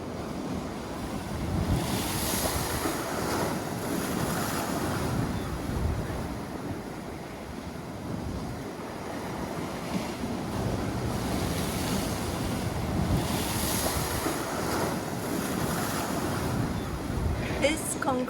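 Sea waves wash onto the beach beside a concrete jetty at Viking Bay, Broadstairs. A continuous, fairly loud surf roar swells and eases gently, with steady wind buffeting the microphone throughout.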